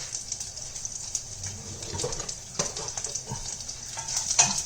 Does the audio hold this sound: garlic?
yes